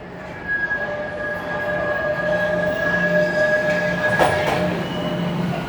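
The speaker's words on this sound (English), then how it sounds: "And here's my train, right on time." A train pulling into a station in downtown Toronto, a steady rumble with rolling wheel noise, a sustained high wheel squeal and a brief brake hiss near the end, close by and loud without talk.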